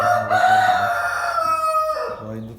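A Wyandotte rooster crows in one long, drawn-out call, loud and close, ending with a short trailing note.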